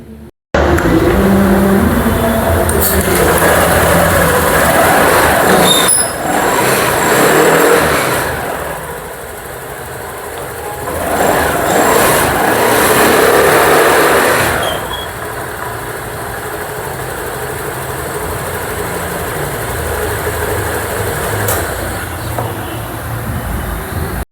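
A repaired Honda Activa BS6 scooter engine, loud and close, starting up and running with a few rises and falls in revs before settling into a steady idle.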